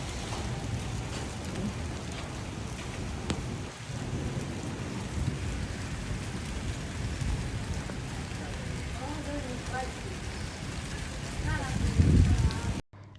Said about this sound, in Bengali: আর একটু জাস্ট শুনেন বাতাসের সাউন্ডটা